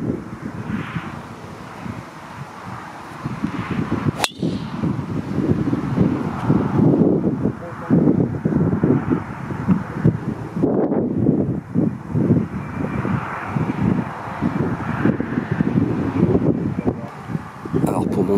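Gusty wind buffets the microphone in rough, rumbling waves on a golf course for the whole stretch, with a sharp knock near the start.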